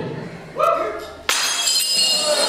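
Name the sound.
porcelain being smashed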